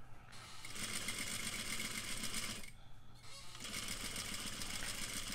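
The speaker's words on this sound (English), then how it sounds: "So I'm backstitching" Sewing machine backstitching a straight collar seam, a fast rattling needle chatter in two bursts split by a brief pause, fairly faint.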